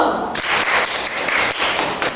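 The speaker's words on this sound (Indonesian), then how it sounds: "Kelompok 3 tepuk tangan dulu" A classroom group of students claps hands together, dense and steady, with continuous overlapping claps filling the room for the full stretch.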